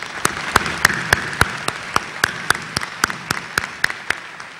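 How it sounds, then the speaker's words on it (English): Audience at an early college high school graduation applauds, with a steady run of sharp, evenly spaced claps standing out over a softer bed of scattered clapping, moderately loud and without talk. "You all deserve our applause."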